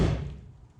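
A single door on a 1960 Ford Ranch Wagon left in a junkyard for 39 years thumps shut, one close, dull low thud that quickly dies away, with no talking.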